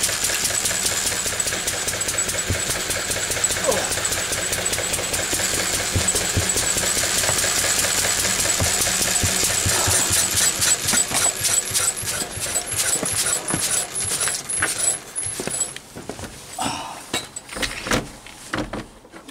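A Lister D stationary engine runs at steady speed, a loud rhythmic thumping beat with mechanical knocking that continues through the clip and tails off near the end.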